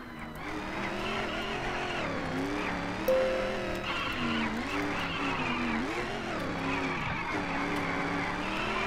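A car drifting through a handbrake-style turn in the video game Gazolinas, a loud steady engine drone with wavering pitch and tire squeal running throughout.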